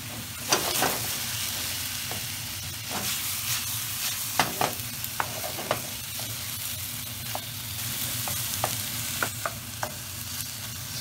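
Lamb meat frying in a hot pan, a steady bright sizzle with scattered sharp clicks and scrapes as a utensil stirs it, close and continuous with no talking.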